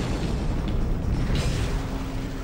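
A massive explosion recreating the 1908 Tunguska blast in central Siberia rolls out as a loud, sustained, deep rumbling roar with no speech.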